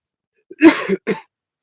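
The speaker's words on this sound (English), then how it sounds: "The cold air got me coughing again." A short, close burst of coughing, two rough hacks in quick succession in an otherwise quiet setting.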